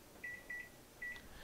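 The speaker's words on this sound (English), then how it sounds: "So I'm going to put my timer on." A kitchen timer being set gives three short electronic beeps, two close together then one after a pause, clear and near in a quiet kitchen.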